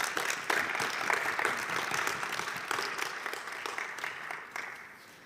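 A conference audience at a UNIDO General Conference bursts into applause, a busy wash of many hands clapping that gradually thins and fades toward the end.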